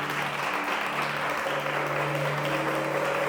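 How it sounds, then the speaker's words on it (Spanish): Steady applause from a church congregation during a sermon, even and sustained throughout, with no voices standing out. "Dale un aplauso a Dios por lo menos"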